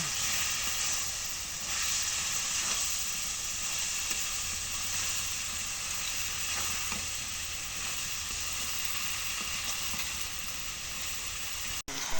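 Spices and leaves frying in a pan, a steady loud sizzle and hiss that runs unbroken throughout with no talk.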